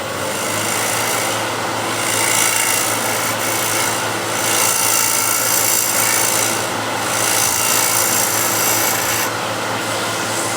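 Card scraper working across wood side grain, a continuous raspy scraping in repeated strokes of steady loudness, close up and without speech.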